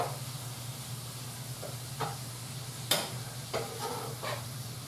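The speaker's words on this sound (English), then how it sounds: "let this cook up. I want to get a nice sautee on the artichokes." Artichokes sauté in a pan with a steady, moderate sizzle, broken by a few scattered clicks and stirring scrapes. No one speaks.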